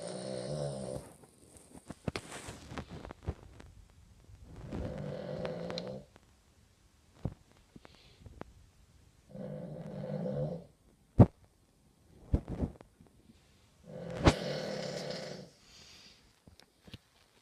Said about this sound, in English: Yeah, she snores ridiculously loud.